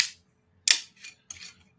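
A new bottle of Weller bourbon being opened, three short crisp cracks and scrapes of the seal and cork, close and clear in a quiet room.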